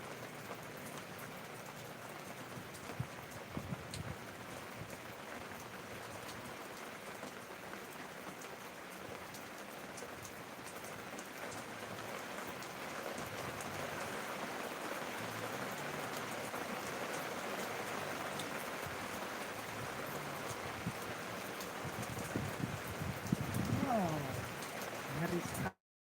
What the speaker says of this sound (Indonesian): hujan angin ternyata